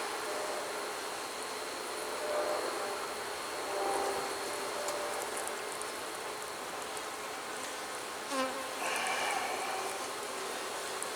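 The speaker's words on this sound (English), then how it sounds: "There are plenty of young bees in there." Honey bees swarm over a brood frame at an open hive, giving a steady, dense buzzing hum that swells slightly now and then, with no talking.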